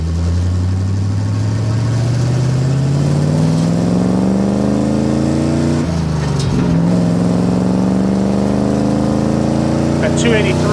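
A 1953 Chevrolet 3100 five-window pickup with a 283 V8 drives along, its engine climbing steadily in pitch through the gears, dipping at a shift around the middle, then pulling again, close and continuous.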